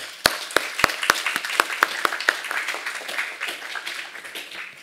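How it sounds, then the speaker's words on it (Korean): A church congregation at a Korean Sunday worship service in Hawaii claps to welcome the pastor, beginning with a few sharp, close individual claps that swell into steady, dense applause filling the room. "나오실 때 우리 하나님께 우리 영광의 박수로 우리 목사님 환영하겠습니다"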